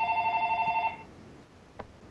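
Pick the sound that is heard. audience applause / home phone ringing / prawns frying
home phone ringing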